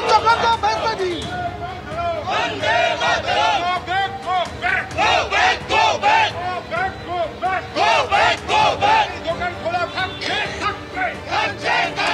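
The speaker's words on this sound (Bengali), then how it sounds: "একদিকে রূপা গাঙ্গুলিকে গো ব্যাক স্লোগান" Trinamool workers massed at the Gariahat crossing in Kolkata during a Bangla Bandh chant a rhythmic, repeated 'go back' slogan at Rupa Ganguly, loud and close, in regular pulsing bursts of many voices.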